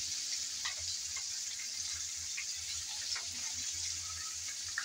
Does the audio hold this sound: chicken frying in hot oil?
yes